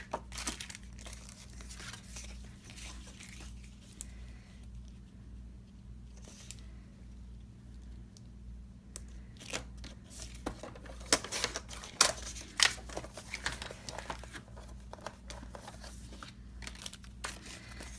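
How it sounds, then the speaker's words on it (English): Paper photos are trimmed closely around their edges on a cutting board for a scrapbook: steady crisp snips and crinkles, growing busier and more clustered toward the end, over a low background hum. "I'm going to cut them fairly close around the photo"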